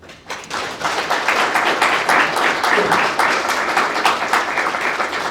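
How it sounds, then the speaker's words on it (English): Audience applause fills the room after a historians' talk at a book festival, a dense, steady clapping that swells quickly and holds loud throughout. "I want to give them a nice round of applause again for these two excellent historians."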